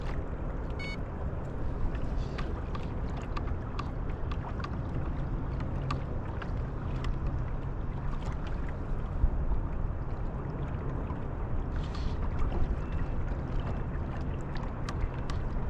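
Electric trolling motor running at 40% throttle on a small boat, a steady low hum and churn of water with wind against the microphone, continuous and fairly close throughout.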